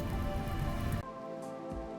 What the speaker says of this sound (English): It's still raining, but we're getting a flash storm